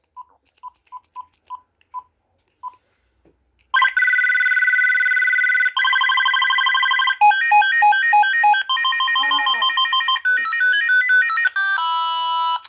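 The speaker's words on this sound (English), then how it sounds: "let's go ahead and go through the ringtone, shall we?" Ringtones cycling on a GE 28214KE2-A cordless telephone: a short run of keypad beeps, then a sequence of loud electronic ring patterns, each a few seconds long, switching from buzzy trills to melodic tone sequences, close and clear with no talk.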